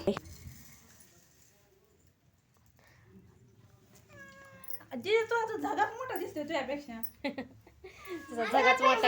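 A cat meows several times nearby in rising, drawn-out cries, followed by lively talk from a child and adults.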